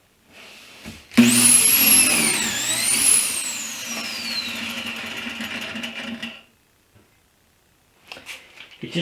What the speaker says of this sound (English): I'm just going to drill some pocket holes into the face frame